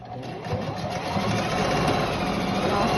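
A sewing machine stitches a seam of fabric for a skirt lining, running steadily and loudly at close range with a continuous mechanical whir throughout.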